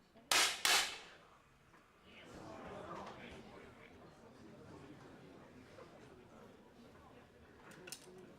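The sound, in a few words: 10 m air pistol shot in women's bronze medal final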